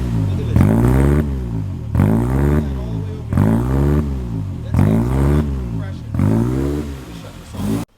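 Car engine in a car being prepped for a dyno run, revving hard in six repeated loud bursts with short drops between, close by and with no talk over it.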